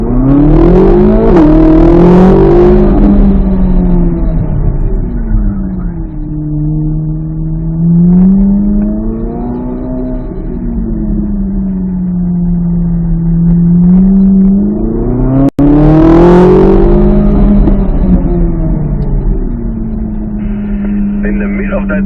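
A C8 Corvette Z06 on a race track, its engine loud and close, rising and falling through repeated acceleration runs and shifts across the whole stretch, with a brief radio-style voice faintly present.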